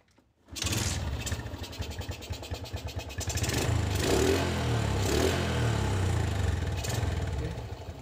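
A used motorcycle engine fires up after a moment of silence and settles into a steady, close, loud idle with a throbbing low rumble, briefly revved partway through.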